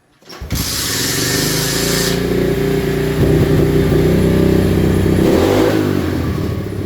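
An SSR125 pit bike fitted with a new Nibbi carburetor catches after a brief silence and settles into a loud, close idle, with throttle blips raising the buzzing engine note in the middle.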